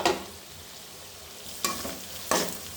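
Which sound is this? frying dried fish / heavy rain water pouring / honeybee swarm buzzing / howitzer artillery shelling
frying dried fish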